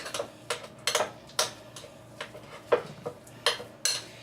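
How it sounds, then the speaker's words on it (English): A spoon stirring chopped twice-baked potato filling in a bowl, with a series of distinct clinks and scrapes at an irregular rhythm, close and fairly clear, with no talking. "stir it together, get it well stirred"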